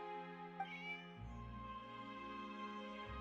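A cat meows in the video game Genshin Impact, one short, clear mew over a steady bed of soft game music and ambience.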